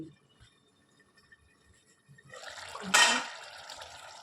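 Cooked paneer curry slides and splashes out of a pan into a dish, a quiet wet pour that swells into a brief louder slosh and then trails off, following a near-silent start.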